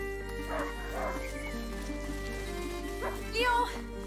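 A hunting dog in the video game A Plague Tale: Innocence gives a few barks and yips, set against a steady low game hum.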